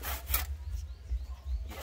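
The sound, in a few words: hand saw cutting a thick lemon tree branch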